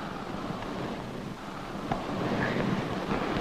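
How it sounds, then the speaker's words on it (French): Strong wind gusting steadily in an open outdoor setting, a broad continuous rushing roar that swells slightly in the second half with no voices. "j'aime pas tellement sentir ce vent"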